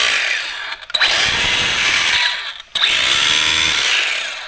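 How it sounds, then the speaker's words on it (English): A whiny, grinding gear-mesh noise from the small motor of a Haiboxing 2997A RC car rises and falls in two bursts, loud and close, with brief pauses between revs. "a little bit of a funny sound coming out of it. Maybe that's just the gear mesh in there"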